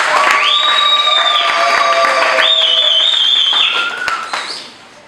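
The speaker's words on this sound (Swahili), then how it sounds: "Wanaonielewa mpigie Yesu Kristo makofi." A church congregation applauds in a dense, loud burst of clapping and cheering, mixed with rising and falling cries or ululation-like tones, before the sound fades away at the end.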